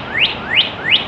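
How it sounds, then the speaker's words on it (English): Three clear rising whistled chirps from a bird at a soccer game, evenly spaced about a third of a second apart, loud and close, standing alone without voices. "Hear those birds up there?"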